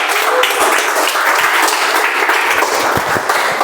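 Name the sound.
audience applause for the youngest guest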